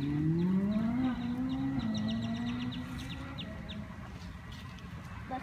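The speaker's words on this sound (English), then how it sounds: "See this geese? It's laying eggs. It's trying to call its mate." A female goose calls for its mate while laying eggs outdoors, giving a long, low, wavering honk that fades over a few seconds, with faint rhythmic clucking and ambient noise.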